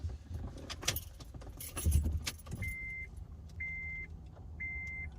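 A 2012 Honda Accord 2.2 diesel is started with its keys: keys jangle, a short low rumble follows, then three evenly spaced electronic chimes ring out over a quiet steady hum.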